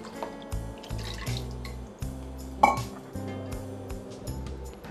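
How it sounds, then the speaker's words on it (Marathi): Water is poured into a pot of squid curry in a home kitchen, a soft splashing trickle with light metallic clinks of the pot and utensils, close and unaccompanied by talk. "आता यामध्ये आपण पाणी घालूया."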